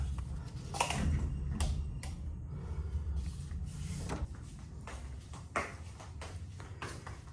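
A locked room door is rattled and tugged by someone trying to open it, a series of dull wooden knocks and latch clatters at an irregular rhythm, close and moderately loud with no speech.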